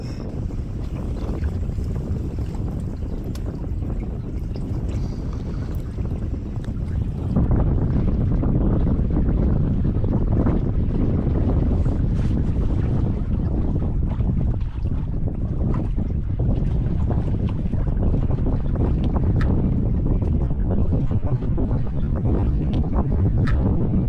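A MacGregor 26M sailboat on a beam reach with its daggerboard down moves through the water with a steady wash along the hull, while wind buffets the microphone and grows stronger after the first few seconds.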